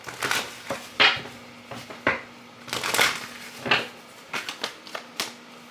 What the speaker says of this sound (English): Let me give this a shuffle.